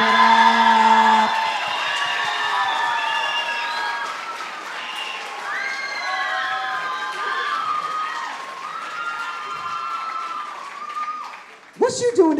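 A school youth event audience erupts in loud, sustained applause mixed with cheering, whoops and excited shouting from young people, holding steady for many seconds before a sharp burst of noise near the end.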